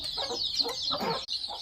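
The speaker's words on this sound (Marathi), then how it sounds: "ही आहे एक कोंबडी" A hen clucking on a farm among other chickens, a close series of short throaty clucks in quick succession over a faint background hiss.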